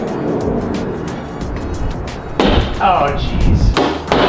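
Plastic trunk panel held by clips being yanked off a Toyota Supra MKIV: rustling handling, then a sudden loud crack and clunky thumps as the panel pops free, with a voice exclaiming briefly.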